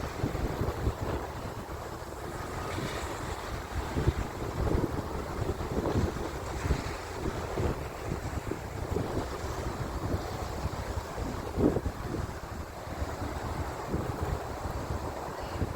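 Wind gusts over a rocky beach with waves washing in, a steady broadband rush with buffeting on the microphone and no voices.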